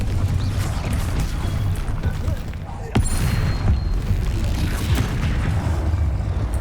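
A Confringo fire spell explodes in the Hogwarts Legacy video game, landing as a sudden sharp boom midway through a dense, rumbling stream of game combat noise.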